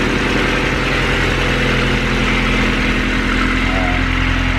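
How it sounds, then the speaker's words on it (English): A turbocharged Honda Civic engine idles steadily with a low, even hum and constant mechanical vibration, close and loud, no voices. "See, it idles pretty well."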